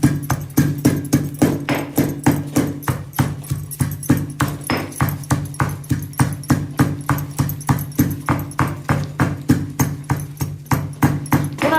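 A spice paste of coconut and garlic is crushed by hand-pounding, giving a fast, even train of sharp thuds, close and loud, that keeps a steady rhythm with no talk over it.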